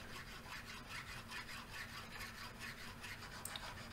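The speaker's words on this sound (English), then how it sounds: "I had to come back with a file and take everything down so it looked good again." A metal file rasping across a hand plane's infill in a workshop, steady rhythmic back-and-forth strokes, faint and close, with no talk.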